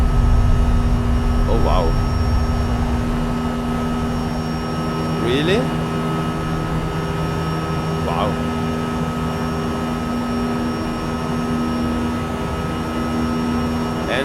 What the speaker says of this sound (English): there's a little too much engine sound here.